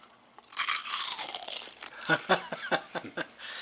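Close, crisp crunching of a low-carb cheese puff being chewed, with a crinkly start and several sharp bites in quick succession.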